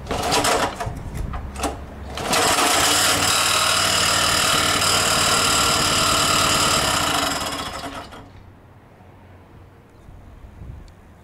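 A tractor engine idles after a cold start on an April day, with a loud steady mechanical chatter and rapid rhythmic clatter that holds for about six seconds, then drops back to a quieter rumble.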